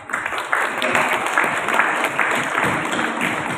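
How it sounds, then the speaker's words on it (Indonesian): Applause from students and teachers at a school Maulid Nabi celebration held by ROHIS high school groups in Semarang, a steady dense clapping wash that holds evenly from start to finish with a few voices mixed in. "tepuk tangan"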